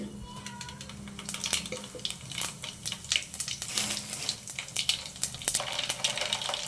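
Cumin and mustard seeds sizzle and crackle in hot oil in a pan, giving a steady close fry with scattered sharp pops and a few clinks of a stirring spoon, and no one speaks.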